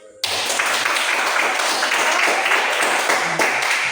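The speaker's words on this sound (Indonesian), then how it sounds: "Jadi tepuk tangan dulu." Classroom clapping after a student group presentation at a vocational high school, a dense burst of many hands starting abruptly and holding steady and fairly loud, with a faint voice underneath.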